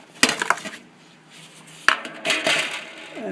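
Cooked pie crust is broken up in a pan of peaches, giving a few sharp clinks and scrapes of utensil against the pan followed by softer crumbling and rustling, close and fairly loud.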